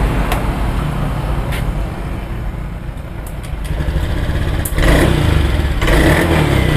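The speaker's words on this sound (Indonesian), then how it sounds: "Sekarang kita hidupkan teman-teman motornya." Honda Beat scooter engine running after a service for sputtering and lack of power, loud and close, with a steady idle hum broken by quick throttle blips and a louder rev near the end.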